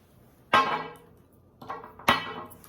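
Coffee Break perfume sprayed from a heavy glass bottle: a sharp hissing burst, a softer puff, then another strong burst, each fading quickly, close by in a quiet room.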